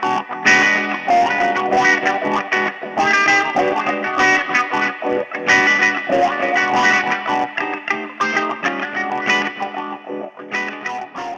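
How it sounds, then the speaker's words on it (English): Electric guitar played through a Sonicake Volume Wah pedal, distorted chords and riffs with a sweeping filtered tone, loud and continuous. "It brings traditional wah pedal tones in travel format with the convenient addition of a volume pedal."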